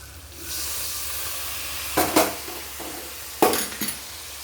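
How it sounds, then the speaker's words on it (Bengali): Spice paste cooking in a pan after milk is added, a steady soft sizzle and hiss with two louder bursts of stirring and clinking utensil scrapes, close by with no talk. "এখন মশলাটাকে ভালো করে কষিয়ে নিব"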